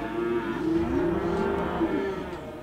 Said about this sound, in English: these downstaters are starting our visit with cows